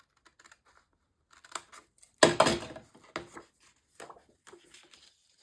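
Paper being trimmed for a Stamperia Songs of the Sea mini album: a few quiet snips and rustles, then one louder crisp slicing cut near the middle, followed by scattered softer paper handling noises, close and with no talking.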